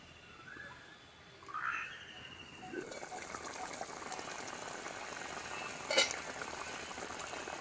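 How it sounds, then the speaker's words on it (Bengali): Magur catfish curry bubbling in a covered pot, a steady close simmer of popping bubbles that starts after some soft clatter and continues evenly, with one brief knock partway through. "ঢাকনা দিয়ে 5 মিনিট ফুটিয়ে নেব।"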